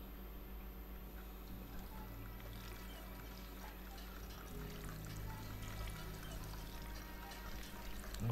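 In the video game Fallout 4, a character pumps water and it pours in a steady, faint stream. A constant low hum sits under the water for about eight seconds.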